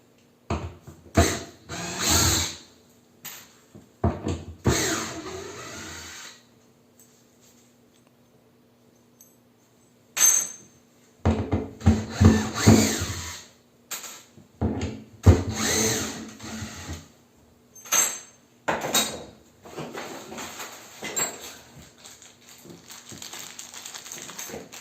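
Power drill backing out the four screws of a toilet paper holder bracket, several bursts of whirring and ratcheting separated by pauses, close and loud, with handling clicks between.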